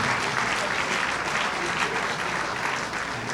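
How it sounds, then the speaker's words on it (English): Audience applause fills an awards ceremony, a dense, steady clapping from a full crowd that holds at an even level throughout with no voices standing out. "Ladies and gentlemen, a round of applause for Mr."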